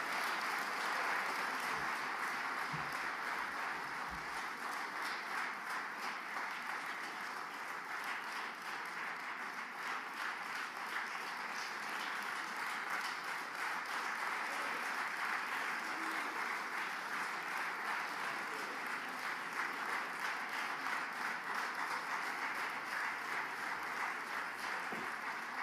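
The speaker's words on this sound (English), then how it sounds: "I would like us to give a loud round of applause to Honorable Sheikh Kavi" Audience applause at a Biafra independence day declaration event, a steady dense wash of clapping that carries unbroken for the whole stretch, fairly distant and even in level.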